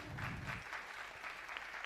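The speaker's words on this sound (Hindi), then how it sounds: "तो अपने लिए तालियां बजाइए ना" An audience at a gathering in Kolkata keeps up faint, distant applause through the short moment, with a low murmur of voices underneath at the start.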